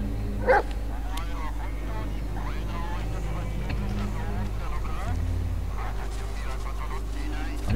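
Bullet, a dog in the horror video game Blair Witch, lets out a few scattered short barks and yips amid game ambience, under near-continuous speech from the players.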